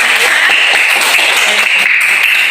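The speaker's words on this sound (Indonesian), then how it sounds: "tepuk tangan dulu jawabannya bagus-bagus semua" Audience applause at a classroom session, a dense, bright clapping that stays loud and even for the whole stretch, with no voices above it.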